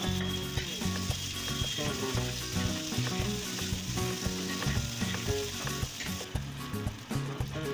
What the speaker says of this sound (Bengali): পেঁয়াজ হালকা ভাজা হয়ে আসলে